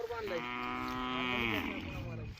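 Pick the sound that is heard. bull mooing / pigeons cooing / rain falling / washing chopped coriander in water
bull mooing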